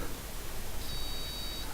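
A single electronic beep from a fischertechnik driving robot's line sensor during a diagnosis check, a short steady tone lasting under a second over faint background hiss.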